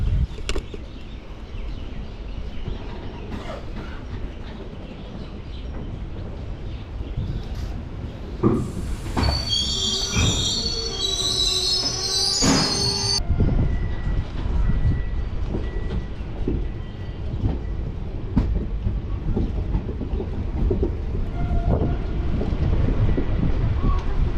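A Haldibari to Kolkata train departs Haldibari station, rumbling steadily along the rails with rhythmic clatter, and a high metallic wheel squeal rises briefly partway through.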